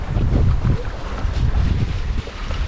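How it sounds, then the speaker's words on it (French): Strong wind buffeting the microphone aboard a sailboat heading from Cap d'Agde toward Sète, with low rumbling gusts and water wash, loud and close. "on a retrouvé du vent depuis un moment déjà"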